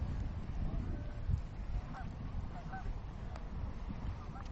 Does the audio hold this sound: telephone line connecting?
no